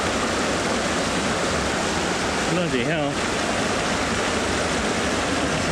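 A mountain river in the Ansel Adams Wilderness rushes steadily and loudly throughout a wading crossing, its dense roar filling the scene while a man's brief exclamation cuts through near the middle.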